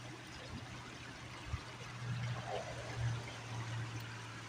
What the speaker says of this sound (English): Nice, beautiful little creek.